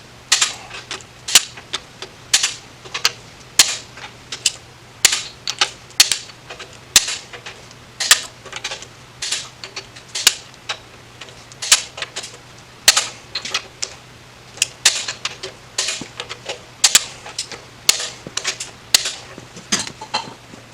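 Torque wrench tightening bolts to 70 foot-pounds on a badly worn Chevy 327 engine during final assembly, sharp ratchet clicks in a steady repeating series, close and distinct over a quiet low hum.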